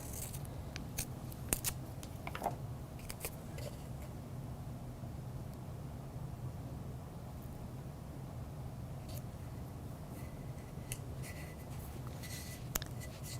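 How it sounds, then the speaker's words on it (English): Scissors trim masking tape while glass is prepared for etching, giving a few faint, scattered snips and crinkles over a quiet steady room hiss. "So I'll just take some masking tape and trim a little bit with scissors"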